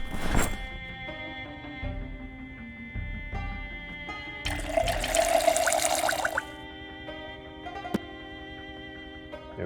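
Water runs steadily from a tap in Project Zomboid, a continuous hiss joined by a louder, fuller rush of pouring for a couple of seconds, with occasional clicks and game tones layered over it.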